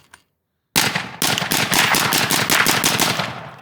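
MK18 Mod 0 rifle firing a rapid string of close, loud shots in fast, even succession after a brief silence, the cracks running together into a sustained burst.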